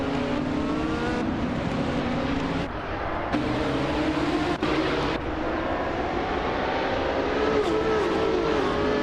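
Several race cars roaring past together in a video game race, engines whining and shifting pitch continuously, loud and close, with brief gear-change dips in the dense mechanical drone and no voices.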